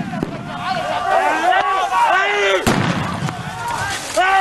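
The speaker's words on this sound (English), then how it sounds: "Police fired tear gas at some 500 refugees who had gathered at the fence." Tear gas launchers fire at a crowd of about 500 refugees massed at the Idomeni border fence in Greece: sharp bangs stand out at intervals over chaotic shouting and crowd noise, loud and close.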